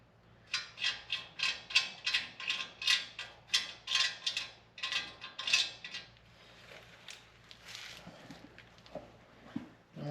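Ratchet tightening two 17 mm caliper bolts on a first-generation Toyota Tacoma front brake, a steady series of about a dozen sharp metallic clicks close up, then quieter fumbling.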